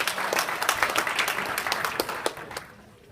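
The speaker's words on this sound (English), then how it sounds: "Give these 2 a round of applause." An audience claps for two volunteers after a card trick at a live event, a dense burst of many hands that stays strong, then thins and fades out toward the end.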